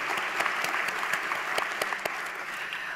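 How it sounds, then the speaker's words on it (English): Audience applauding a panel discussion at an economic forum, dense sustained clapping from a moderate crowd with sharp individual claps standing out, steady throughout. "Let's give a round of applause"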